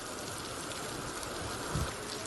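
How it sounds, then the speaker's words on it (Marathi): Steady post-monsoon rain hisses evenly over Mumbai's eastern suburbs, a dense wash of falling drops with no voices and one brief low thump near the end. "कुर्ला सायन मानखुर्दमध्ये पाऊस होत आहे"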